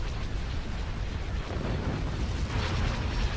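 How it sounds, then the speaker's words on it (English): Explosions from the Star Wars: Empire at War space battle, modded with reworked effects, form a dense, continuous low rumble with booming bursts that swell near the end, loud and sustained with no voices. "You can hear the explosion sounds have been changed as well."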